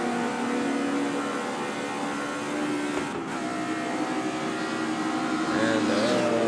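A car accelerates on a climbing road, its engine note rising steadily as a sustained, fairly loud drone with tonal whine and road noise throughout.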